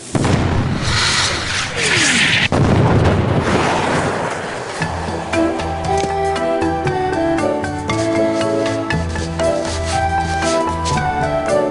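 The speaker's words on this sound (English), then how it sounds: "Now roll out the really big cannon and blow up those terrorists this instant!" A really big cannon fires in the Escape from Monkey Island video game, a loud booming blast with rushing rumble, then fading into a bright musical score.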